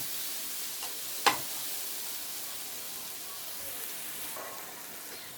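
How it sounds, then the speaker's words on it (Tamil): Chopped vegetables such as onion, tomato, capsicum and carrot sauté in hot oil for a masala bread snack, giving a steady soft sizzle throughout, with one sharp stirring scrape early on. "இப்போ இது எல்லாத்தையும் ஆட் பண்ணிக்கலாம் எண்ணெயிலேயே நல்லா வதக்கிக்கலாம்"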